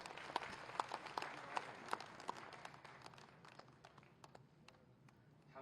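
An audience at a World Environment Day climate conference inauguration claps to welcome a minister. Distinct, scattered hand claps ring out at first, then thin and fade to a softer patter by the end.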